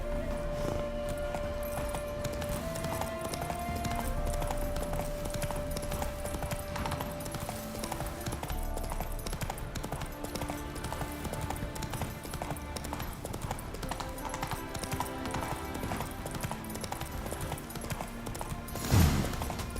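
Hooves of Roach, a horse in The Witcher 3: Wild Hunt, clip-clop in a steady walking rhythm beneath a constant layer of game music, with a brief louder thump near the end.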